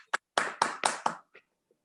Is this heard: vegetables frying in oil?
no